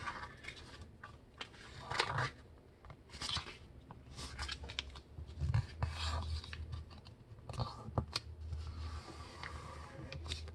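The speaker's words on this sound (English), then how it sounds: "Fold both sides to the center crease." Sheet of paper being creased and folded toward a center line while making a simple paper sword, giving close, crisp rustles and scratchy crunches in irregular bursts with no talking.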